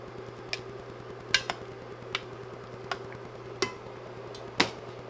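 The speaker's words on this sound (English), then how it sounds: "we're going to give it one final" Black rice being stirred in a pot, heard as about seven sharp, scattered clicks and taps of a utensil against the pot over a steady low hum, close and fairly quiet.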